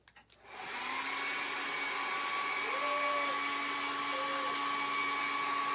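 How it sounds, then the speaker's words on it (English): A hair dryer switches on after a few clicks and runs with a steady, loud whirring hum, its pitch wavering slightly now and then, drying a decoupaged wooden pumpkin. "So then I'm going to take the dryer and dry that."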